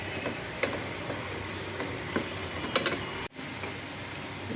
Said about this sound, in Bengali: এবার একটু সময় নিয়ে ডালগুলোকে কষাবো।